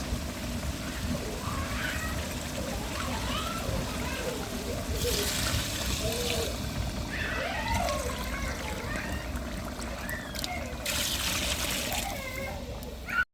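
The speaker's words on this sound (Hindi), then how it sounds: "अब हम इसमें डाल देंगे पानी।" Water is poured into a large pot of fried rice for aloo matar pulao, making a steady trickle and splash against kitchen background noise, with a voice speaking partway through.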